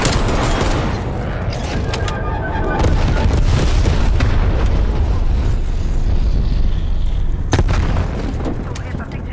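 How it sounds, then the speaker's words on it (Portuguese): Enemy napalm strike in Call of Duty Cold War: loud, rolling explosions and heavy booming rumble sustained for several seconds, with a sharp blast near the end and a game announcer voice early on. "Napalm inimigo a"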